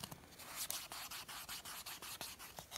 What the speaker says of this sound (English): I need to clean off my scraper card